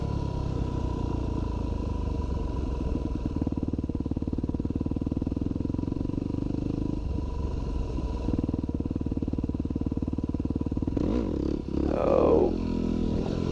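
A Yamaha WR250R dual-sport motorcycle engine drones steadily at close range during a balance-point wheelie attempt, with throttle surges, a brief dip and a final louder rev and clatter near the end.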